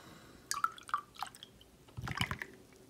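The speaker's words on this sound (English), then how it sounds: "Here, let's fill the glass back up." A drink is poured from a can into a glass: soft liquid splashes and drips in short bursts, then a fuller fizzy gurgle near the end, close and fairly quiet.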